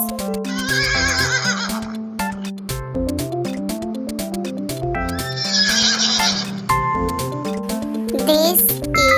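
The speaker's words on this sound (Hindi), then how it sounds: "This is a horse." Over a musical background, a horse neighs in a loud, clear whinny, followed by hoof clip-clops and a second whinny toward the end.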